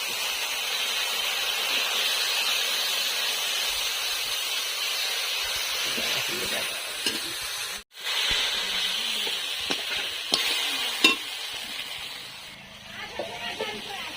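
Tomato, cashew and melon seed paste added to a hot pan for a vegetarian soybean dumpling dish, giving a steady loud hiss that briefly cuts out, then resumes with a few clinks and softer sizzling.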